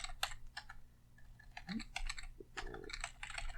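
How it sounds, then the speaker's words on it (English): Typing on a computer keyboard while composing an encrypted email, with irregular bursts of clicking keystrokes at close range and no talk. "if I could actually type"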